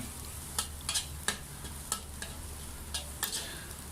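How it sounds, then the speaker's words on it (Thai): Garlic stir-fries in a pan over medium-low heat, with a soft steady sizzle and repeated scraping strokes of a spatula at an irregular pace. "ผัดไปเรื่อยๆครับ ให้มันกลิ่นหอม"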